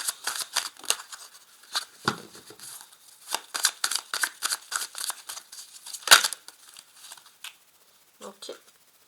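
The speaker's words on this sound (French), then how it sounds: "maintenant, je vais placer les cartes" Tarot cards being laid out on a table: a quick, close series of soft slaps and papery flicks, with a louder snap near the middle and a few scattered placements toward the end.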